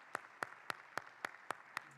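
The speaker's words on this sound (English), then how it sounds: "Please, a round of applause." Seven evenly spaced, crisp hand claps sound at a slow, regular pace after a conference talk, faint and isolated against a quiet room, more like one person clapping than a full audience.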